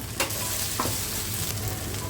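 Ginger paste hits browned fried onions in a pan, giving a soft steady sizzle with a few brief stirring scrapes, fairly quiet and close.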